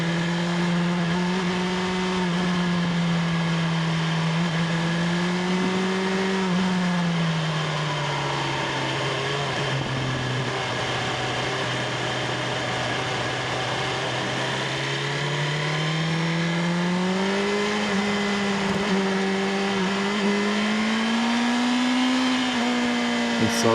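A car engine strains in low gear, a loud, close, continuous drone whose pitch slowly rises and falls over the whole stretch, with no clear voices.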